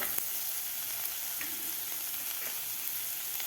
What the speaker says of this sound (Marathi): आता आपल्याला हे दोन मिनटं मोठ्या गॅसवर हे भाज्या परतून घ्यायच्या आहेत